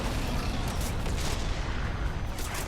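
Toxic grenade blasts in the video game Evolve form a dense, continuous roar of rumbling booms and crackling bursts, loud and sustained with no clear gaps between detonations.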